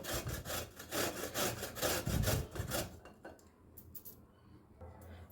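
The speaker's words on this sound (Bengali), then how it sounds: "এইভাবে সমস্ত আমলকিগুলোকে আমি কুড়িয়ে নেব" Indian gooseberries (amla) being grated by hand for a sugar-free pickle: rapid rhythmic rasping strokes close by for about three seconds, then quieter scattered scraping.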